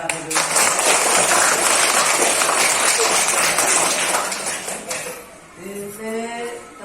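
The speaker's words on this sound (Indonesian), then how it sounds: "Tepuk tangan buat saya dulu." A classroom bursts into sustained clapping, dense and loud for about five seconds before fading, followed by a voice speaking.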